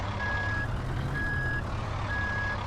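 A truck in a trucking video game backs up to hitch a modded trailer, its reversing beeper sounding three evenly spaced tones over a steady low engine rumble.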